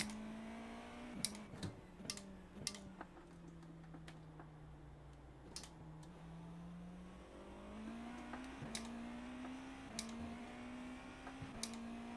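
Race car engine in the iRacing sim, a fairly quiet droning engine note that climbs through the revs, drops at each gear shift and climbs again, with sharp clicks scattered throughout.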